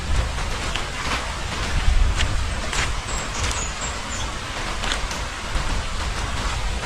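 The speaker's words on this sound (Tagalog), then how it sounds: "Ulan mga kanong, pasimuan ni." Steady rain falls outdoors on a farm field, a close, dense hiss of drops with faint scattered taps and a low rumble underneath, no voices.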